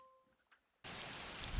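Heavy rain in the racing game Gravel switches on suddenly after a near-silent start with faint tones, then hisses on steadily and fairly loud with a small thump at the very end.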